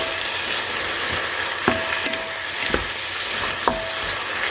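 Beef sizzles steadily in a pan seasoned with soy sauce and chicken powder, with occasional sharp clinks of a utensil stirring against the pan, close and continuous with no talking.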